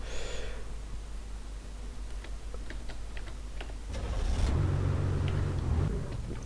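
A car engine in the video game Garry's Mod, on a server set in a US apocalypse, idles with a low steady drone, then swells into a louder rev about two-thirds of the way through, with faint ticking clicks scattered over it.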